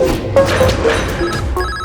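A telephone rings in a Hindi-dubbed action film scene, a steady electronic ring repeating in short bursts at moderate loudness with no talk over it.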